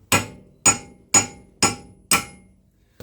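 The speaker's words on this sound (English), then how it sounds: "Using my club hammer, it comes off relatively easily." A club hammer strikes a metal part on an MG car wheel hub five times in an even rhythm, each blow a loud, close, ringing metallic clang, then a faint tap at the end.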